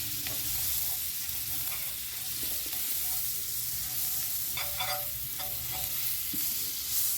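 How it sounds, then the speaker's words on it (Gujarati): Pav bread toasts in a pan with butter and garlic chutney, giving a steady close sizzle with occasional scraping stirs and faint clinks throughout, no voices. "પાઉં શેકી લઈએ. એમાં આપણે થોડું બટર એડ કરી દઈએ."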